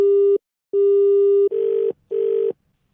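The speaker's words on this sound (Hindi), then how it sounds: "नंबर मिला रहा है भाई बार बार।" Loud telephone line tones sound on a call as a number is dialed: two clean steady beeps followed by two buzzier pulses, separated by short silences, with no voices.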